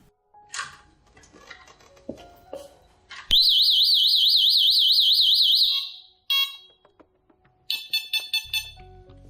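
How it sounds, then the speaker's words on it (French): A Delta Dore Tyxal+ home alarm siren warbles loudly and steadily for a few seconds, then, after some quieter clicks and handling noise as the alarm is stopped, breaks into a string of short, sharp beeps. "la sirène a émis une longue série de bips"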